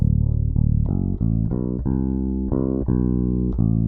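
A bass guitar plays a Chicago blues riff of sustained, connected notes that ring into each other, smooth and somewhat flat, with no pauses between them.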